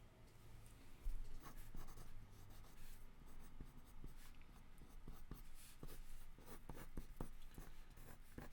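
Pencils scratching and rubbing across paper during a live character drawing session, a steady close-up sequence of soft strokes and taps with no talking.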